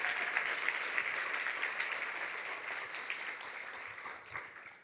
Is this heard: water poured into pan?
no